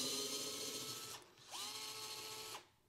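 A Dewalt DCF682N1 cordless screwdriver whirs at high speed in two sustained bursts, its motor whine steady and close, with a short pause between runs and no talking.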